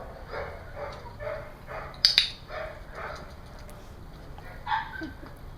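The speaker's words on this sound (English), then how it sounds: "This is an example of treat and retreat with a fearful dog who is reacting." A fearful, reactive dog barks and yips in a short series of sharp, mid-distance outbursts, with one louder burst partway through and quieter whimper-like sounds between them.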